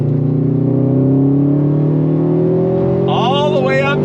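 A 2018 Subaru WRX STI Type RA engine holds a loud, steady drone under throttle, its pitch climbing slowly, then jumping into a quick rising rev near the end.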